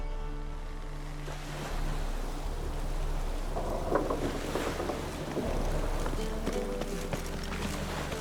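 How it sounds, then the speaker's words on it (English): Steady rain pours down with low rumbles of thunder rolling underneath in The Witcher 3, broadband and continuous, with music-like tones drifting through the background. "Looks like rain."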